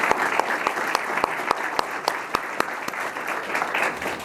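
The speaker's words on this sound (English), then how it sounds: "I'd like to give Chief Matsushita a quick round of applause for all his work on that." Audience applause for a fire chief at a fire awards ceremony, steady dense clapping throughout with a few sharper individual claps standing out, moderately near.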